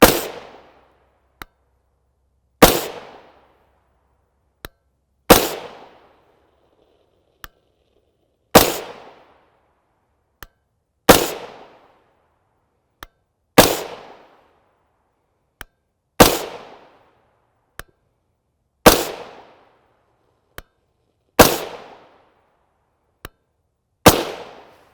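A suppressed 300 AAC Blackout SBR rifle with a 16-inch barrel fires 145gr FMJ tracer rounds outdoors. Ten sharp, loud reports come at a slow, steady pace about every 2.5 seconds, each with a short decay, and fainter clicks fall between them.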